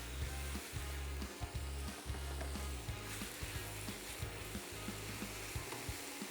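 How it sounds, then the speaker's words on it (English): Thin, tender sliced steak frying in a hot pan, a close, steady sizzle with light scraping and stirring taps scattered throughout. "this steak, it's so thin and tender. So we're going to get that going in the pan"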